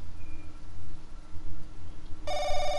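A telephone rings in the horror video game The Crooked Man, a bright electronic ring that cuts in sharply near the end after a stretch of quiet low room hum.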